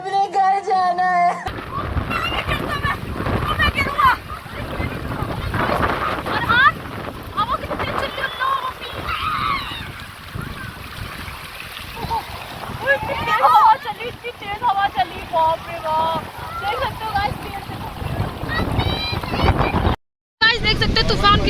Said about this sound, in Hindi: देख सकते हो तूफान कितनी तेज आ रहा है।